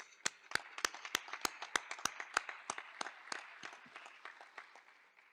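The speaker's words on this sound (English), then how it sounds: "let's get a round of applause for our family and friends out here today" At a university ROTC commissioning ceremony, a small crowd of family and friends claps: distinct, fairly quiet claps at a steady pace that thin out and fade over a few seconds.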